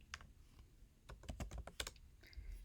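Quick bursts of keystrokes on a computer keyboard as a web address is entered, a close, quiet run of uneven clicks with short pauses, no voices.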